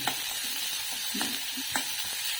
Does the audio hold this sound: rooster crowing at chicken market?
no